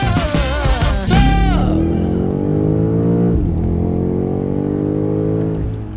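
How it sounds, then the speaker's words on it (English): A BMW G90 M5 fitted with an Akrapovič exhaust revs hard, then its loud, rich exhaust note eases down and settles into a steady droning hum, close by. "with the Akrapovic, we just put it to the max, so we get the max sound while still being legal"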